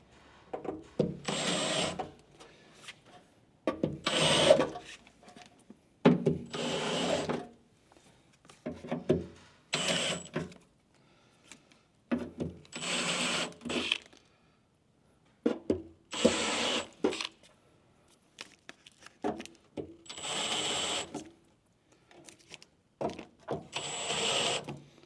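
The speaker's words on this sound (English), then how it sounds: "you can use a slightly larger drill bit" Drill bit spinning by hand or power to deburr freshly drilled holes in a steel Landcruiser 76 Series barn door, sounding as repeated short bursts of grinding whir with brief quiet pauses between them.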